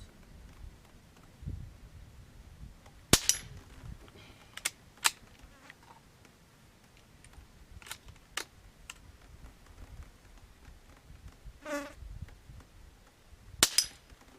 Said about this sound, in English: Make sure this old rifle still shoots.